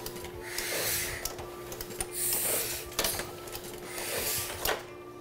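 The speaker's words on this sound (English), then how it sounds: "Here I am placing the printed sheets back into the press, running ink over the plate, and feeding the first sheet through to see how it looks." A letterpress printing press feeds and prints a business-card sheet, giving off soft rhythmic mechanical clacks and thumps over a low steady hum, quiet and close, with no talking.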